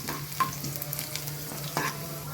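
Chopped ingredients browning in a pan while corn Maggi noodles are cooked, giving a steady close sizzle broken by a few sharp crackles.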